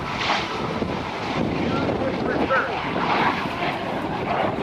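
An F-86 Sabre jet fighter from North American Aviation makes a low pass at the Dayton airshow, giving a steady, loud broadband roar with wind buffeting throughout, while a commentator talks over the engine noise.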